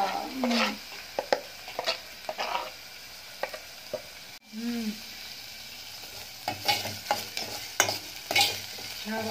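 Onions fry in a hot pan on a home stove, giving a quiet, steady sizzle broken by repeated scraping and stirring strokes, with no talk.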